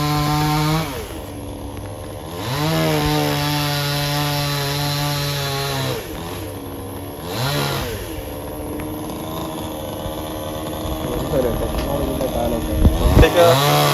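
A petrol chainsaw cutting down a coconut tree runs loud and close, its engine note rising and falling in several revving bursts with steady harmonic drone between them.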